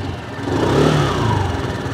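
Benelli Panarea 125 scooter engine revving on the throttle, a steady close mid-pitched hum that swells and holds for a couple of seconds without talk.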